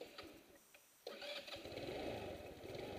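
A small 150cc Ruckus-style scooter engine cranks briefly, then catches and settles into a steady, close idle after a quiet moment with a few clicks.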